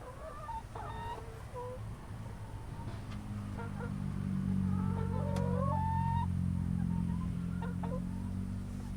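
H&N Brown Nick hens cluck and give short squawks at close range on a farm during egg collection, with scattered calls over a steady low mechanical hum.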